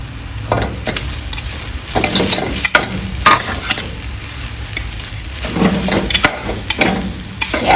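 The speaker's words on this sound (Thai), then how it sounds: "กระจายเส้นให้สี เครื่องปรุงที่เราใส่ลงไปให้เขา เคลือบเส้น ให้สีเสมอเสมอกัน" Mee sua noodles are stir-fried with seasoning in a pan, giving a close, continuous sizzle punctuated by scraping strokes and light clinks of the utensil against the pan.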